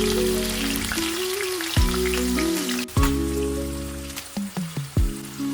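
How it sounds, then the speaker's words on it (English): Steady sizzling and crackling of sliced carrots and capsicum frying in hot oil over medium flame, with a few clinks and scrapes of a utensil stirring the pan. "Frying them on medium flame for about 5 minutes until they are cooked and slightly tender."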